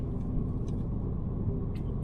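Constant, heavy low rumble inside a car driving along in South Africa, steady and close with no talk over it.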